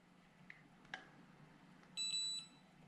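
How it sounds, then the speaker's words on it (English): A drone's electronic chime sounds at the start of compass calibration: a bright, sustained multi-tone beep lasting about half a second, preceded by a few faint clicks in an otherwise quiet room. "then you're going to begin the compass calibration process. And it's going to start off with that beep"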